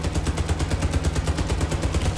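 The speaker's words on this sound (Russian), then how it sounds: "Я просто увидел этот выстрел." Gunfire in the Warface shooter game comes as a rapid, loud, evenly spaced burst of shots that runs through the whole moment without any talk.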